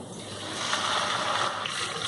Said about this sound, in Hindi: प्याज का पानी खुश्क होने तक हम प्याज को फ्राई करेंगे।